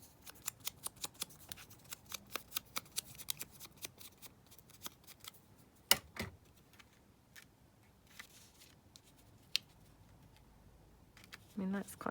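Scissors trim craft paper in a quick run of crisp snips, then a few scattered cuts and rustles follow, all fairly quiet and close.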